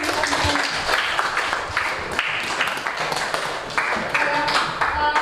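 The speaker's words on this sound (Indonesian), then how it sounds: "dan kita berikan tepuk tangan kepada kelompok" Students in a classroom clap for their discussion groups, a close, uneven burst of hand claps from a small room of people, with sharp individual claps standing out over the continuous clapping.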